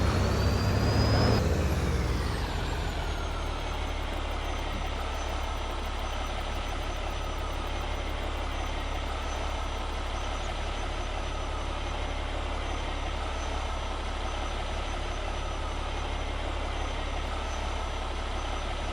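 A truck engine in a farming game idles steadily at a constant low drone after a brief louder rev and hiss at the start, unchanging and close for the rest of the stretch.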